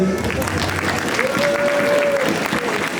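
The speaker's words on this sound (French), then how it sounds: "on peut encore l'applaudir" A cosplay contest audience applauds steadily in a dense, sustained wash of clapping for a full three seconds, with a faint tone running through the middle.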